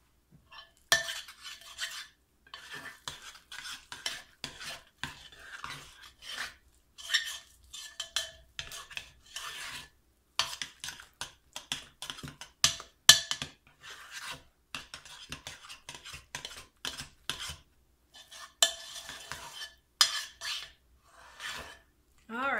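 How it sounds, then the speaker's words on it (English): A spoon stirs rebatched hot process soap mixed with yogurt in a pot, producing irregular scraping and clinking strokes, with short bursts and brief pauses close to the microphone. "And I'm stirring it up really well."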